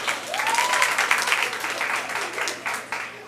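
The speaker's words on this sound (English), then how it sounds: "Now give yourselves a round of applause" Audience applause fills a symposium hall, a dense, steady wash of many hands clapping at close range with a few cheers and whistles rising over it, sustained throughout.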